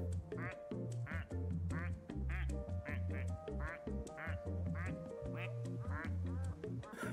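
Repeated cartoonish duck quacks from a video game ring out in a quick, steady rhythm over continuous game music, loud and close throughout.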